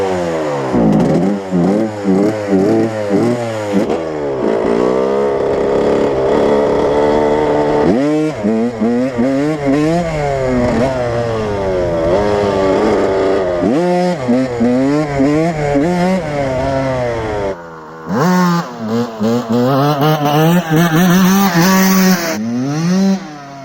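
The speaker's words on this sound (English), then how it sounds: "my dad has fixed the exhaust. So now there's no more holes in the exhaust." A 1995 Suzuki RM 80cc two-stroke dirt bike with a freshly repaired exhaust revs loudly in repeated rising and falling bursts, with brief drops to idle and a short pause near the end.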